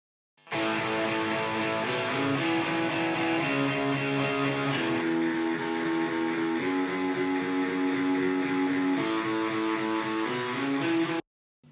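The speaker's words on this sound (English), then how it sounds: "So that's that guitar sound." Several distorted electric guitars play together in thick, sustained chords that shift every few seconds, a full, steady wall of sound without voices.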